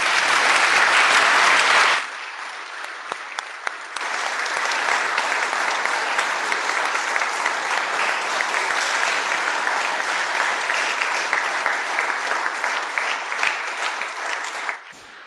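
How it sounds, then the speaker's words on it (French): A church audience at a June confirmation and baptism service gives the young people sustained applause. A loud burst of clapping drops briefly, then rises again into steady, dense clapping from many hands that lasts until the end. "Je vous propose d'applaudir les jeunes"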